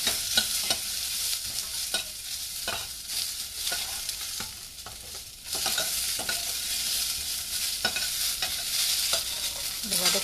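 Garlic and onion sautéing in a pan for spinach sambar, a continuous sizzle broken by repeated sharp spoon scrapes and stirring knocks, with no voices.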